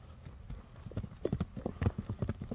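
A thick-bodied horse gallops at a close distance, its hooves clip-clopping in a quick, uneven rhythm of sharp, loud strikes that carry on steadily from start to finish.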